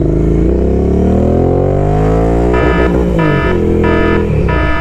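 Royal Enfield Interceptor 650 parallel-twin motorcycle engine revving up close, rising and falling through several sharp throttle blips with a steady loud exhaust note throughout.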